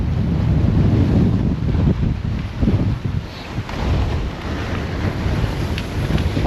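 Strong, cold wind gusts across the open sea, roaring steadily into the microphone as a low rumble with surf-like surges and brief lulls, loud and close throughout with no voices.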